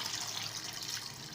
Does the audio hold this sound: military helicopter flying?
no